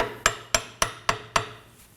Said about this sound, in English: You might need to tap it underneath with a hammer.